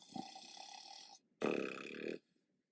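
A reader imitating a bear snoring for a read-aloud of the picture book Bear Snores On: two drawn-out rumbling, throaty snore sounds separated by a brief pause, close and fairly loud.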